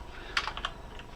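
Computer keyboard typing while code is entered, a quick cluster of soft clicks, fairly quiet and close, with no voice.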